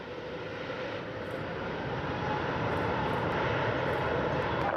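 An airplane roars down the runway on takeoff from runway 07 right, a dense, steady engine rush that grows slightly louder partway through, heard alone without talk.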